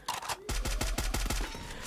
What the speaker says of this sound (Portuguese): todo mundo dando bala ali pra cima da Coé